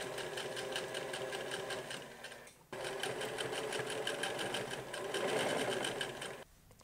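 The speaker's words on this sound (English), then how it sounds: "Final step, not to be forgotten, hemming" A sewing machine runs steadily while hemming the bottom of a pair of men's joggers, with a fast even stitching whir, a brief pause near the middle, then the motor starts again and continues at the same pace.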